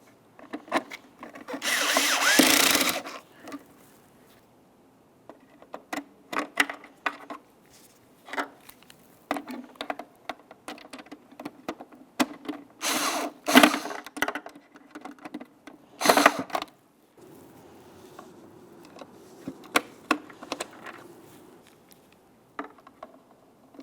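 Tail light mounting screws on a 2003-2007 Honda Accord being tightened by hand, giving close, intermittent scraping and ratcheting bursts of metal and plastic with short pauses between turns.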